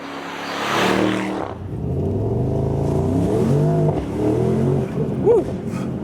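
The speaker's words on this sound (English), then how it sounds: "That was 0 to 40 miles an hour with a lot of fireworks from the exhaust." A 2022 Mercedes-AMG SL63 accelerates from a standstill to 40 mph, its engine rising through a few gear changes with a low, throaty roar, heard from inside the car, with a faint pop near the end.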